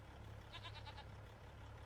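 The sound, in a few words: goats bleating in the video game Farming Simulator 25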